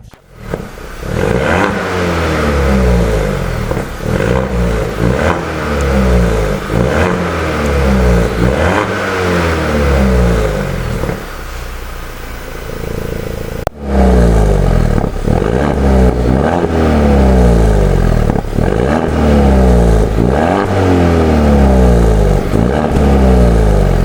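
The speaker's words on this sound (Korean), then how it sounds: "브론코만의 아주 중저음의 배기음 바로 한번 들어보시겠습니다" A Ford Bronco with a tuned exhaust revs repeatedly with a deep, rumbling exhaust, loud and close, in rhythmic throttle blips with a brief break midway.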